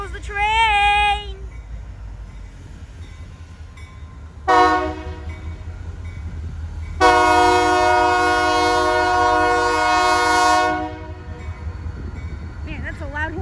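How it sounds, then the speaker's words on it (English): A loud Union Pacific locomotive horn sounds near Vernon, California, in three separate blasts, a short one, a brief one and a long sustained one, over the continuous rumble of the passing freight train, with faint voices at times. "Man, that's a loud horn."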